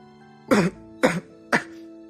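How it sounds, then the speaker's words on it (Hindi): Three short, sharp coughs spaced evenly about half a second apart, close and fairly loud, with quiet room tone between. "एकदम से खांसी आ गई"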